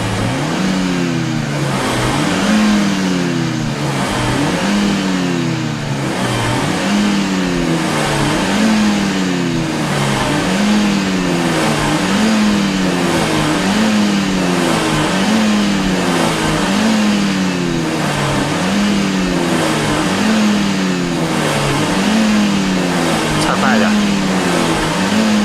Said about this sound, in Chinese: 踩到底，然后再，对，踩到底，等转速下来再往上升